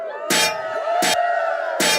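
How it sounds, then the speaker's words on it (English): Metallic clanking of armor as people move around a table, three bright broadband clangs over a steady hum of crowd noise and a sustained tone. "Everybody's clanking. There's all that armor around the table."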